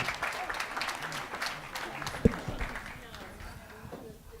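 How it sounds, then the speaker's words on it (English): Audience applause for theatre performers at an English language training leadership conference: fairly faint, steady clapping from a seated crowd, with voices mixed in and a single sharp knock partway through. "So give them a round of applause, please."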